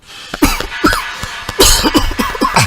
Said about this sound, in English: Oh boy, this your cough, eh?